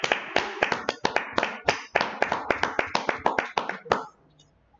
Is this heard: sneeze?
no